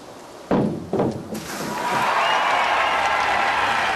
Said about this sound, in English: Well, from silence to breakout applause here in Barcelona.